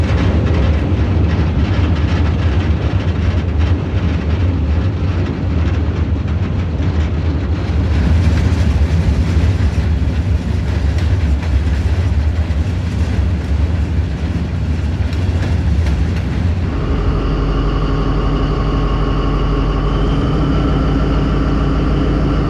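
A loaded freight train rushes past on a Vietnamese railway, its rolling wagons producing a loud, continuous rumble and clatter that shifts abruptly near the end as the passing cars give way to a steadier, quieter running noise.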